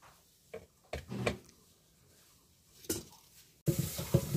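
Cooked lentils (dal) are stirred in a pot in a village kitchen, a few sparse spoon scrapes and clinks against the metal, then a louder, busier stretch of clatter at the end.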